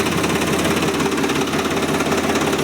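Tractor engine idling steadily on a dairy farm in winter just after a cold start, giving a loud, continuous, even rumble with no talk.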